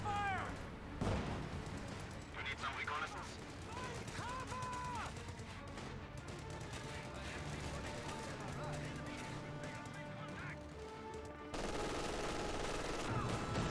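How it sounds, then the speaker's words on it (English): Steady battlefield din from Company of Heroes 2, with a German MG42 machine gun firing from a defensive position at paratroopers, dense bursts of gunfire and booms running continuously at a loud level throughout. "MG42 in a very defensive position. Trying to hit those paratroopers."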